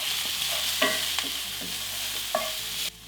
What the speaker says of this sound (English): into the pan add the shallots